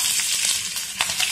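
Curry leaves with mustard seeds, cumin and asafoetida sizzling in hot oil, tempering for dal: a steady bright hiss with small crackles and pops running through, close and fairly loud, no voices.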